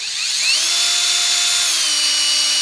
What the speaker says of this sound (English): you're going to take your drill and drill right through your